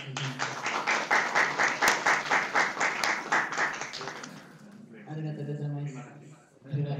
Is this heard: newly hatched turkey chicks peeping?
no